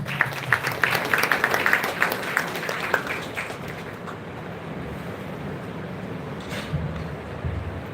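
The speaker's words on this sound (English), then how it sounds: "Let us welcome Dr. M. Duraiselvam with a big round of applause." A college event audience in Karamadai, Coimbatore gives a round of applause to welcome a speaker. The clapping is loud and busy at first, then fades over a few seconds into a windy, rumbling hall background.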